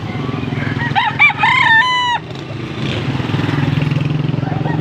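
A rooster among tethered chickens carried on a vehicle crows once, loud and close, over a steady low engine rumble that continues after the crow ends.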